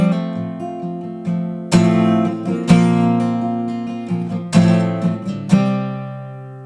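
Chords of the worship song Before the Throne played together on what sounds like piano, with sustained harmonic strikes at an unhurried pace, each ringing and decaying before the next, heard alone and close.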